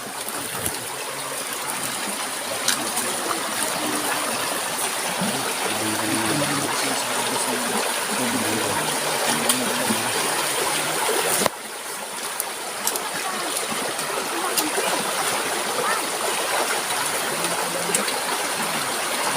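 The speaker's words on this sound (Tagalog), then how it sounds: "Ang ingay ng ilog." A river rushes along, its loud, continuous broadband flow of splashing and trickling water steady throughout, with faint occasional ticks and no speech.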